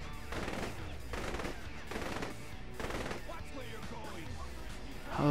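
Rapid bursts of gunfire in Saints Row: The Third Remastered come in repeated volleys over a steady game backdrop, with a voice talking between them.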